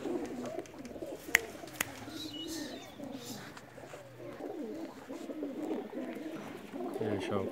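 Young blue-tailed pigeons coo softly and repeatedly at close range in a home loft in Pakistan, with a few sharp clicks and someone talking at times over them.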